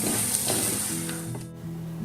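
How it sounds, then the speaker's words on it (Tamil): Fish head pieces sizzle and hiss in hot oil in a pan for a South Indian fish curry, a bright steady frying sound that cuts off partway, leaving a low hum. "மீன் மண்டையை போட்டு வதக்கி"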